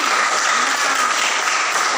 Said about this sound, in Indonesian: Baik, bagus, tepuk tangan buat si Adi.